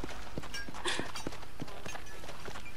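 Horse hooves clip-clopping at a steady walking pace in the Western video game Red Dead Redemption, moderately close but fairly quiet, with no talk over them.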